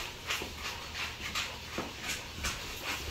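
A dog panting in quick, steady bursts near a chest-mounted camera, heard just before setting out on a jog, with faint rubbing and movement noise alongside.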